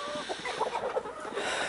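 A rooster clucks close by in a farmyard, a run of short, soft throaty clucks over a faint background hum.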